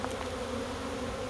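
A honey bee swarm buzzing steadily, a dense continuous drone close by with no speech.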